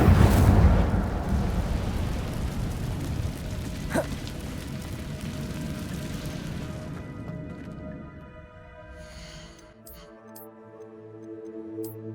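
Casting the Incendio fire spell in Hogwarts Legacy gives a loud whooshing burst of flame that rumbles and fades over several seconds, then quiet game ambience with soft tonal music.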